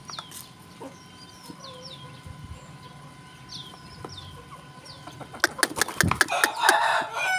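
Bangkok chickens in a coop with a cement floor, making soft scattered clucks and short calls at close range, then a louder burst of clucking and scratching near the end.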